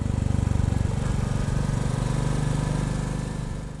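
Royal Enfield Bullet 350 motorcycle engine running while riding on a chilly day, a steady, loud single-cylinder thump with a fast even pulse, close and continuous with no talk.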